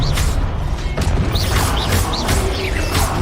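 Expelliarmus spells cast repeatedly in the wizarding game Hogwarts Legacy, sharp bursts with swooping magical whooshes and impacts coming in quick succession over dense combat noise.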